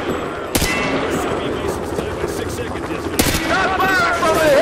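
Dense Modern Warfare 2 gunfire in a video game: rapid, overlapping shots with two sharp, loud blasts, kept up throughout under shouted in-game voices.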